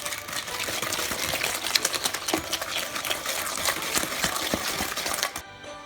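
Butter and brown sugar being whisked for a Christmas cake give a busy, continuous run of rapid clicking and scraping strokes against a bowl, close and fairly loud, stopping abruptly at the end.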